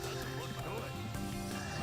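Frogs croak in Frog Forest from the video game Sonic Heroes. The croaks come in a steady rhythm over game music and ambience, and speech runs under them.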